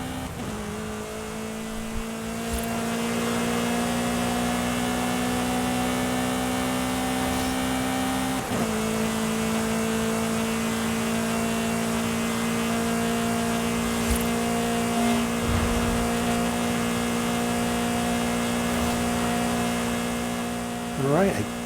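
Steady engine drone of a vehicle cruising on a highway in a battle-royale style video game, with a constant tonal hum that holds evenly throughout and shifts briefly once midway.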